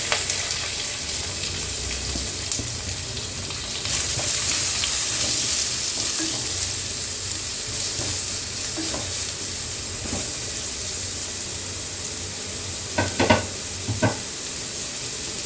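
Steady, loud sizzling of chopped onions frying in hot oil, with occasional scraping and clinking as they are stirred in the pan.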